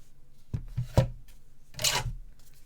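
A small paper trimmer slices through card, with two or three short, close scraping strokes of the blade separated by brief pauses and no talking.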